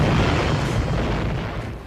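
Heavy cannon fire from wooden sailing warships in close-range battle, a loud, deep rumbling boom rolling on and slowly fading over a couple of seconds.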